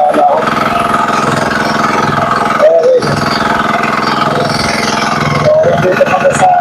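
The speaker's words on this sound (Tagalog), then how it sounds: "nagbukas na kami ng generator. Kaya generator natin makina yan generator para magkaroon ng kaliwanag na ilaw dito sa laot" A generator engine runs steadily aboard a fishing boat out at sea off Quezon Province, a loud continuous mid-pitched drone close by, with someone talking over it throughout.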